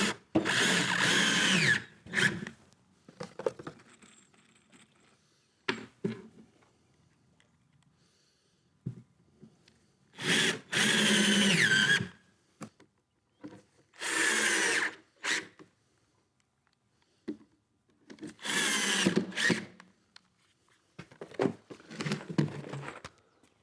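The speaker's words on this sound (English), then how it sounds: "pre-drill" A power drill bores pilot holes for screws at the corner of a wooden table for an outdoor kitchen, whining in five loud, close bursts of a second or two, separated by quiet gaps.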